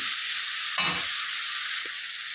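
Masala spice paste for a thin ilish fish curry with potato and eggplant sizzles steadily in hot oil, close up. A brief scrape of stirring cuts in early, with a tiny tap later.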